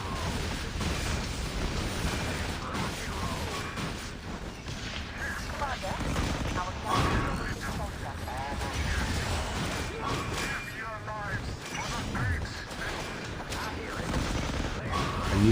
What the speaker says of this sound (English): use my Katyusha and artillery